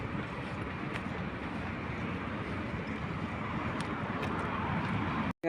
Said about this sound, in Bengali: ওখান দিয়ে মেট্রো রেল চলে আর নিচে দিয়ে গাড়ি চলে